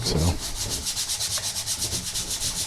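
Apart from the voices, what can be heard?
fine sandpaper sanding a MIDI controller surface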